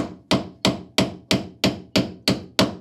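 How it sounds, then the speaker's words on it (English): Hammer blows striking a nut threaded onto the driveshaft of a Trabant P60 during repair, landing as nine sharp, evenly spaced metallic strikes, close and loud, with no talking. "when I hit it with the hammer, I hit both the nut and the inner part"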